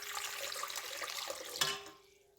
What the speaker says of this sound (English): I'm going to put in the warm water,